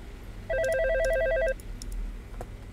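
A video-game phone in Five Nights at Freddy's: Blood & Gears gives a single electronic ring burst lasting about a second, a warbling two-tone trill over a low background hum, then fades to quiet room tone.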